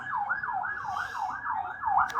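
A police car siren wails in steady repeating up-and-down sweeps, moderately loud against faint background noise and traffic rumble.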